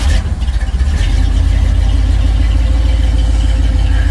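A carbureted car engine roars loud and close, a quick uneven revving burst at the start before it settles into a rough, steady running drone with a faint voice underneath.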